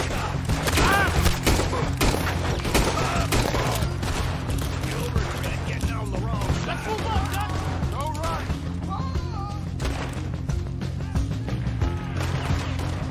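Dense gunfire in Red Dead Redemption 2, rapid overlapping shots and thuds in a busy fusillade, sustained throughout with someone talking over parts of it.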